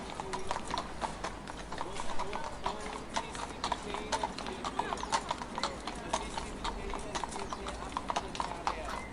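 Horses pull a carriage in a close, continuous clip-clop of hooves with a steady, brisk rhythm, while a speaking voice runs over the hoofbeats throughout.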